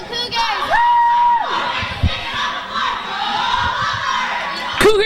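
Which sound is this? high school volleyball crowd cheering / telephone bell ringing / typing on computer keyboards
high school volleyball crowd cheering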